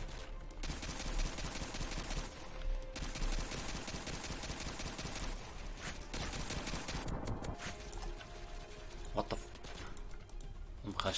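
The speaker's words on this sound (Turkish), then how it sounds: "Ben de sıkıyorum, benim atışlarım niye değmiyor?" Gunfire from the mobile shooter Pixel Strike 3D, dense and continuous rapid shots throughout, loud and close, with talk over parts of it.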